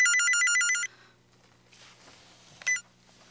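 A home telephone in a 1998 Korean TV drama rings with a bright electronic warbling trill for about a second, then the room falls quiet apart from a brief chirp near the end.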